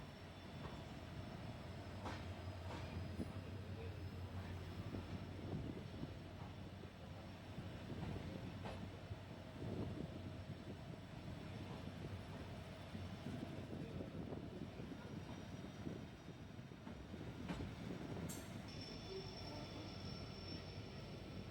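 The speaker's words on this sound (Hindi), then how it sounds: "और ये हम अभी लालगढ़ जंक्शन पे अराइवल ले रहे हैं।" A train pulls into Lalgarh Junction railway station near Bikaner, its steady rumble and wheel noise filling the scene at a constant level, with a brief sharp squeal near the end and no voices.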